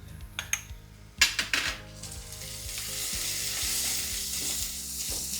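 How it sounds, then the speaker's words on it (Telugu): Ginger garlic paste and turmeric hit frying onions in a pan: a few loud clanks of a metal spoon against the pot, then a growing, steady sizzle that carries on under occasional stirring, with no talking. "అల్లం వెల్లుల్లి పచ్చివాసన పోయేంత వరకు వేగనివ్వాలి"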